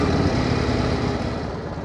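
A 1931 Indian 101 Scout motorcycle being ridden on the road, its engine giving a steady, close, continuous low rumble for the whole moment with no voices.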